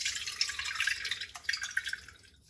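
Tamarind water, soaked overnight, pours through a strainer into a silver wok, a soft close trickle with scattered drips and splashes running steadily, then thinning out toward the end.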